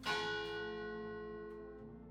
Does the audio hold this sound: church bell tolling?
yes